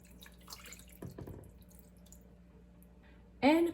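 Water is poured into a pot already seasoned with salt, ajinomoto and sake for boiled chicken. A short, bright splash of pouring comes near the end after a quiet stretch with faint kitchen clinks.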